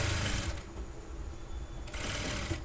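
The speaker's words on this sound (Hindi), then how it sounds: "इस पर हमने लगानी है एक सिलाई किनारी की इस तरीके से।" A sewing machine stitches blouse fabric in a loud, close, rapid mechanical whir, easing briefly in the middle and then resuming, with no talking.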